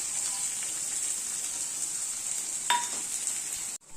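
Small onions, garlic and curry leaves sizzle steadily in a pan for a peanut kuzhambu, a continuous close frying hiss with a brief clatter near the end and no talk.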